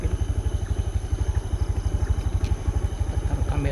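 A motorcycle on a rough, difficult road, its engine putting out a steady rapid chugging pulse, close and prominent, with faint rattles over it and no talking.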